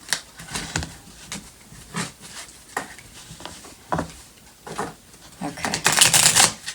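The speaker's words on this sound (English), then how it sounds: "I did not shuffle that well." Tarot cards being shuffled in quick bursts of riffling and flicking, close and fairly loud, with brief pauses between handfuls and a denser flurry near the end.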